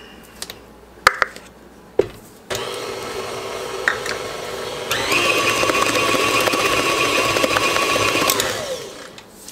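Electric mixer whirs through pina colada muffin batter, starting after a few bumps and clicks, then running steady and loud with a higher-pitched stretch before stopping.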